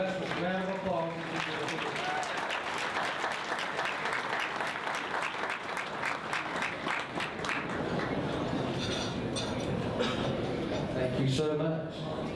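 An audience at an award ceremony for the 2012 Taste of North Carolina best dish contest claps steadily for about twelve seconds, a full room of sustained applause with no voices rising above it.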